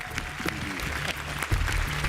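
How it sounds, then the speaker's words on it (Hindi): Faint, brief applause from the audience at a Hindi poetry competition show, soft scattered clapping at a low level. "ताली बजा दो, अच्छे आए हैं।"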